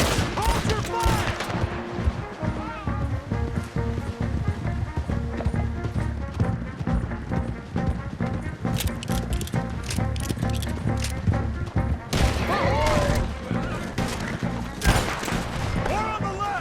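A chaotic shootout in Red Dead Redemption 2, with rapid overlapping gunshots and volleys cracking throughout, along with hoofbeats and shouting voices in the mix.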